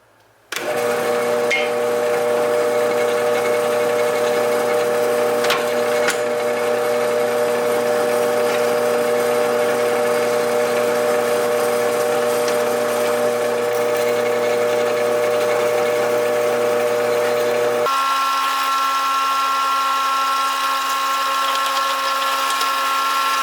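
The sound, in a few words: drilling 1/4 inch holes in a knife blade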